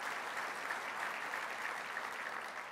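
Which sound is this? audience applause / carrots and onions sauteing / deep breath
audience applause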